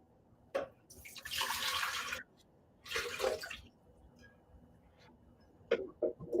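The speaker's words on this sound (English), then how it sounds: "I'm going to put some water in my Vitamix" Water poured into a Vitamix blender jar in a kitchen, coming in two separate splashing bursts of a second or two each, with small clinks and knocks in between and near the end.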